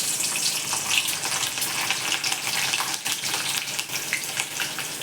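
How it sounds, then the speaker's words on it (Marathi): Two chopped green chillies dropped into heated oil, sizzling loudly and steadily up close with crackling spits throughout, no voices. "ह्यात मी ह्या 2 मिरच्या चिरलेल्या टाकते"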